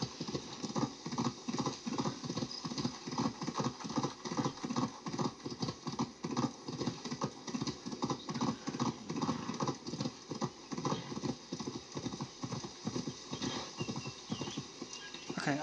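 Horse hooves clip-clop in a steady trotting rhythm throughout, with an occasional whinny, in the video game Assassin's Creed Valhalla; the sound is moderately loud and close, with no talking.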